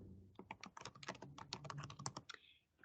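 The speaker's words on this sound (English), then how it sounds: "Typing in a password." A password being typed on a computer keyboard, a quick run of a dozen or so close, crisp key clicks in an irregular rhythm, faint and alone.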